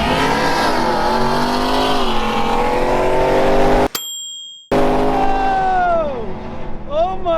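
A 900 hp full carbon fiber Revenge GT supercar revs loudly with a deep, throaty roar, cuts out briefly, then rises and falls again in sweeping engine pitch.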